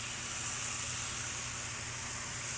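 Butter sizzles on a hot Blackstone flat-top griddle beside steak bites, a loud, continuous, even hiss heard up close with no voices.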